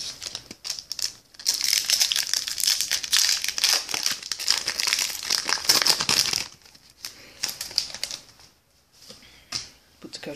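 Crinkly foil wrapper of an X and Y Fates Collide Pokémon booster pack tears and crumples up close in a dense, continuous rustle, fading into quieter handling near the end.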